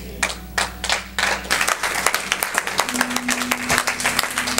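A church congregation clapping together, quick rhythmic handclaps building into steady applause, loud and close, with a low sustained hum underneath.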